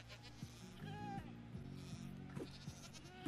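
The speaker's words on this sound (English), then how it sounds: "I hear the screaming goat!" A screaming goat in Minecraft's Caves and Cliffs update gives a few faint, distant bleats over soft in-game background noise.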